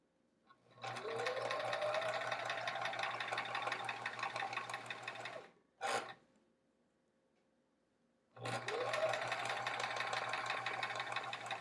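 A sewing machine stitching quilt block seams runs in a steady fast mechanical whir for several seconds, stops, gives a brief burst, then starts again into another long continuous run, fairly close and clear.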